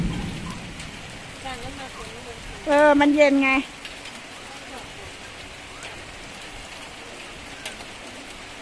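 Steady rain patters continuously on surfaces at an elephant camp coffee shop in Chiang Mai, with someone talking over it and a brief tonal sound in the middle.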